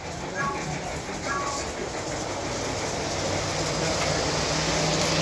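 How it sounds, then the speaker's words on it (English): Steady rumbling clatter of small battery-powered model trains rolling along an outdoor track, continuous and fairly close, with faint voices in the background. "We can run 4 trains out here without running into each other."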